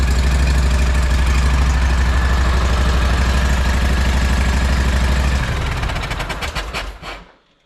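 A rebuilt engine runs loud and steady for break-in with a rough, rhythmic mechanical pulse, then winds down and cuts off near the end, with no talk.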